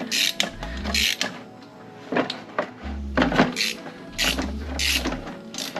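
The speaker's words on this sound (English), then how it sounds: "If you're gonna take off the rotor, you need to do it in a star pattern." Brake rotor bolts on an 81-volt e-bike are loosened with a ratcheting tool, giving rapid clicking ratchet bursts and low buzzing tool whirs in repeated short spells, close and fairly loud.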